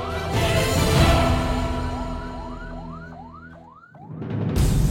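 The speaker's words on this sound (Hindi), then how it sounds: "सायरन बजाती हुई खाली एम्बुलेंस" An empty ambulance races along with its siren going, a loud electronic wail sweeping upward in a fast repeating pattern over road and engine noise, briefly cut off near the end before traffic noise swells back in.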